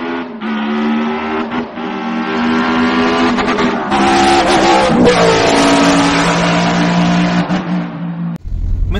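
A car on a family trip to Bhuleshwar temple near Yavat, Pune, drives with a loud, close engine drone that rises and shifts in pitch as it accelerates, ending in a brief low thump.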